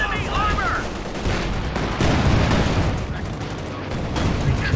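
Machine gun fire in Company of Heroes 2, dense overlapping bursts of gunfire and battlefield rumble at steady loudness, with voices faintly mixed in.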